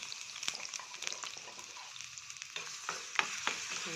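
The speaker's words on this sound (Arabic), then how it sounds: "نقلب كده تشويحه. هنشوح كده اهي" Minced garlic frying in melted ghee for a weika tempering, a quiet, steady crackle with repeated sharp scrapes and taps of a spoon stirring the pan.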